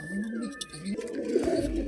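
Pet pigeons held by a hobbyist breeder coo in low, repeated throaty rolls, fairly close and steady, with some soft handling noise and faint background murmur.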